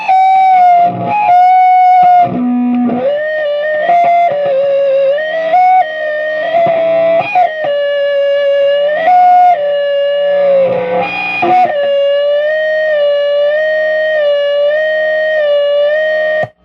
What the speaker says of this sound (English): the whistling quality that you get from this distortion pedal seems to be more controllable and more usable than a lot of other distortion pedals